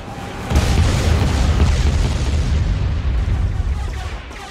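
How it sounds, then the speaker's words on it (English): Dense, rumbling explosions from a bombing run in the Star Wars strategy game Empire at War roll on continuously after a short quiet start, loud and heavy without any speech. "Bombing run available. Commencing bombing run."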